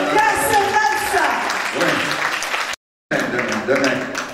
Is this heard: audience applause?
yes